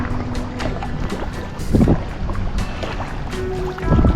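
Kayak paddling out on the Adriatic Sea at Vodice, Croatia, with steady wind buffeting the microphone and water sloshing around the hull; a couple of splashier paddle strokes stand out near and moderately loud, with no talking.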